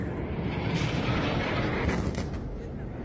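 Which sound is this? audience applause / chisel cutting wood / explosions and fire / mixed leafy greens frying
explosions and fire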